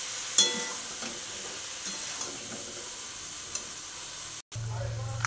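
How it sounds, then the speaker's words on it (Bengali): Ground spice paste with turmeric and salt fries in a pan, giving a steady, fairly quiet sizzle broken by occasional light stirring taps and one brief pause near the end. "ভালো করে নাড়তে থাকলাম যতক্ষণ পর্যন্ত মশলাটা ভাজা না হয়ে আসছে"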